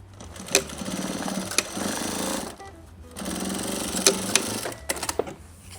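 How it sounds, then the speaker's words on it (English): A sewing machine stitches the two sides of a scrap-fabric koozie together in two steady whirring runs, each a few seconds long and separated by a brief pause, loud and close with no talking. "Now attach the two sides together. Same thing, start off the seam so it's not so thick."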